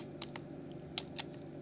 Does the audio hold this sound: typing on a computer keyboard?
yes